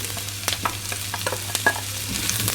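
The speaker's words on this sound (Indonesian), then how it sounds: "Lalu diaduk-aduk lagi sampai layu." Sliced onion stirred in a frying pan with garlic, the spatula scraping in irregular strokes over a steady close sizzle of frying, with no talk.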